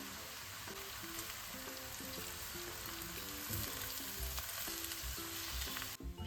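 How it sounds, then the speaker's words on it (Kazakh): Onions and cabbage fry steadily in a pan for pierogi filling, a continuous broadband sizzle with soft stirring scrapes underneath, close and even throughout with no voices. "енді капустамызды салып, бұны азырақ қуырып аламыз."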